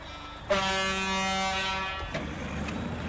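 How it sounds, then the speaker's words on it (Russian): A truck air horn in the off-road driving game SnowRunner blares as one loud sustained blast of about one and a half seconds, then cuts off, leaving low engine rumble behind it. "Гитин клаксон жесткий прямо."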